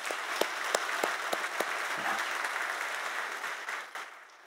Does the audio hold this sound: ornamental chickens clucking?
no